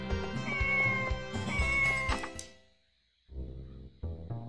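Cartoonish cat meows from the video game Harvest Moon 64, a few bright repeated calls over game music, then a short silence before the music resumes.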